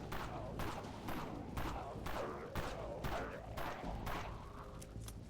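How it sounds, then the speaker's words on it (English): Pistol shots in the zombie video game Dead Frontier, a steady run of about eight sharp reports spaced roughly evenly over several seconds, close and loud against a dense, noisy background. "this pistol is kind of loud, everything can hear me"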